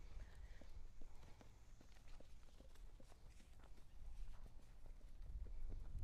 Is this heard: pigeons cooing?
no